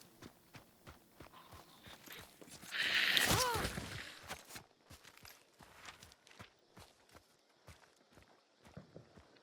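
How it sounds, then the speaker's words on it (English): Footsteps tap steadily throughout a League of Legends match, quiet and rhythmic, briefly swamped by a louder burst of game effects near the middle. "You hear footsteps inside the layer."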